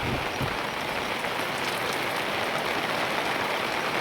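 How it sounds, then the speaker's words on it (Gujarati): Heavy monsoon rain pours down steadily on a farm in July, a dense, even hiss of drops hitting surfaces, loud and continuous without any pauses. "જોરદાર આવે વરસાદ."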